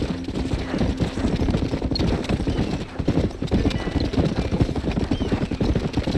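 Horse hooves clip-clop steadily and quickly in the Red Dead Redemption video game, close and loud over a dense rumble of game ambience, with a brief whinny-like tone mixed in.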